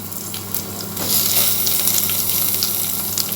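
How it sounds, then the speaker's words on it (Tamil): Green chillies and tomatoes sautéing in a pan while chickpea biryani is cooked, a close, steady sizzle that grows louder and fuller about a second in and keeps crackling to the end. "பச்சை மிளகாய் போட்டாச்சு. அடுத்து தக்காளி போட்டுக்கலாம்."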